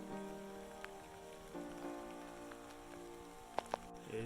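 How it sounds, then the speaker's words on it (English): Rain begins falling on the Colorado Trail, a faint, steady patter on surfaces with a few sharper drop ticks standing out against a quiet background. "It's 8:30 and it just started raining."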